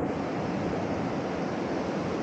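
Steady broadband rush of a flowing river near Poyom village on a sunny day after rain, a loud close wash of water running continuously with no voices.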